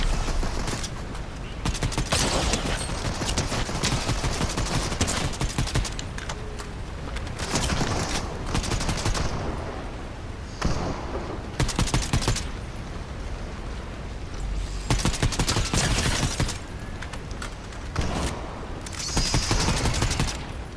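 Heavy video game gunfire from a Star Wars KOTOR-style game, with dense bursts of shots and fusillades repeating in clusters across the clip, loud and close, with no talk over it.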